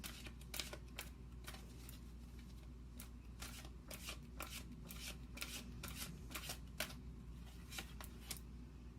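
Tarot cards being shuffled by hand, a quick series of crisp riffling flicks repeating in an even rhythm, close and fairly quiet with no talk.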